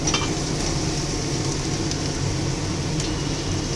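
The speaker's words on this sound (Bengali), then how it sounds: "তেলটা আবার একটু গরম করে আলাদা তাওয়াতে গরম করে আর একটু তেল দিয়ে দিলাম" Oil heating and sizzling on a separate tawa before eggs are cooked, a dense continuous crackling hiss that stays loud and steady from start to finish.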